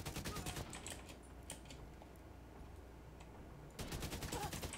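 Gunfire in the video game The Division 2: rapid automatic bursts crackle at the start, fainter scattered shots follow, then another fast burst closes, all quiet and thin, no voices.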